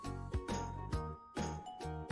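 An electric doorbell rings in repeated tonal chimes, three or four bright ding-dong strikes with sustained ringing between, clear and alone.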